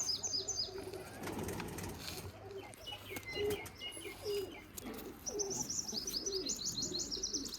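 Pigeons on a rooftop give low repeated coos amid chirping and occasional wing flaps, with other birds trilling higher up, against steady outdoor background.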